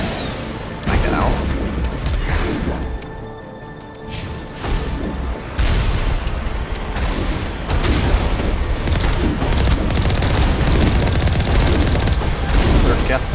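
Geth turrets fire in the Mass Effect video game, a dense, loud barrage of booms, crashes and bursts that runs almost continuously, mixed with game effects and heavier toward the end.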